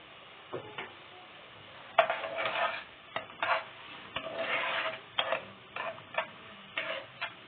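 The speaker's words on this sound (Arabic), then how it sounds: "نشوح بقى البصله" A small onion sautéing in a pot for an okra and turnip stew, giving bursts of close sizzling and frying crackle alternating with scraping and stirring sounds, with no talk.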